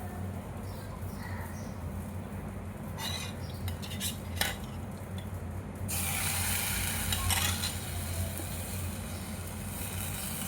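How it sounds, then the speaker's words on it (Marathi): Jaggery water is poured into a hot pan of ghee-fried cashews and almonds for a sweet bread-crumb sheera, and the sizzle surges loudly partway through amid clinking utensil stirring. "आता यात आपण गुळाचं पाणी घालू।"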